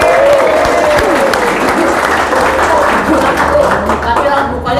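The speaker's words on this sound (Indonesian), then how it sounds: "Tepuk tangan dong buat Harry." An audience at a congress held to elect the general chair of RBPI applauds for Harry, a steady wash of clapping that stays loud for about five seconds, with some voices mixed in.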